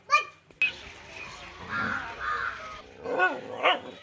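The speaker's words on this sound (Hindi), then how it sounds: "कुत्ता के सब पर भुकैत रहे छे" A dog barks in a village household, with a couple of sharp yelps at the start and several more barks near the end, mixed with a voice speaking.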